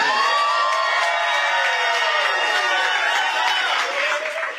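A crowd at a New York City Democratic mayoral primary election night event cheers and applauds, a dense sustained roar with raised voices that holds steady before easing slightly at the end.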